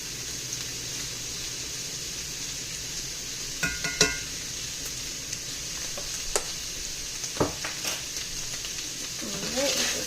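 Ground beef chili mixture with cumin cooking in a pan for chili mac, with a steady quiet sizzle under a few clinking spoon stirs.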